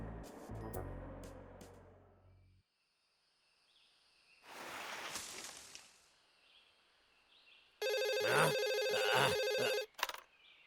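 In the Boonie Bears cartoon, a telephone rings in a loud, steady electronic trill for about two seconds near the end, after earlier bursts of cartoon noise and a quiet pause.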